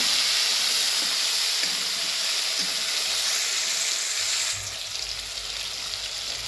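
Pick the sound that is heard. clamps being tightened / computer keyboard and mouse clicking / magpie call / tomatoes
tomatoes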